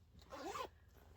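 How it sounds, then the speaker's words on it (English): A zipper on a large bag pocket is pulled once in a quick, close rasping stroke, quiet and alone in a still room. "And this zipper goes all the way down to here"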